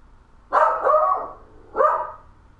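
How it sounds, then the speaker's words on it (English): A dog barks twice in a game of Evil Within, two loud, close barks about a second apart, the first drawn out slightly longer, with no talking over them. "Gosh, Twix, what are you barking about?"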